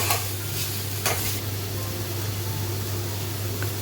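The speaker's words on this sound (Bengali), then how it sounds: "আমরা এবারে পেঁয়াজ বাটাটা দেব অল্প কিছুক্ষণ নাড়িয়ে তারপরে হালকা ভাজা হয়ে এলে" Onion paste stirred and fried in a pan for a rural Bengali egg dopiaza, giving a steady, close sizzle with a few brief scraping strokes near the start.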